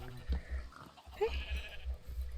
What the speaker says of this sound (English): And we'll get a little gray baby sheep.